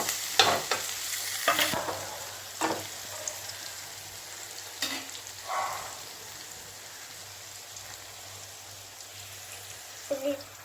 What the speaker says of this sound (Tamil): தக்காளி போட்டு நல்லா வேகணும், நல்லா வதங்கட்டும்.